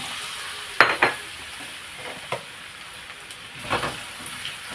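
Taro pieces frying in a pan of oil for a pork belly with taro dish, with a steady soft sizzle broken by a few sharp clatters of stirring near the start and again toward the end; no talking.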